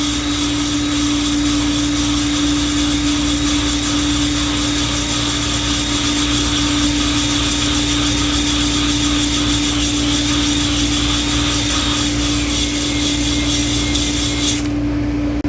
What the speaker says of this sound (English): Now I'll show you with this dingle ball hone.